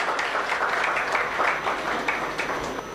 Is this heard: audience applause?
yes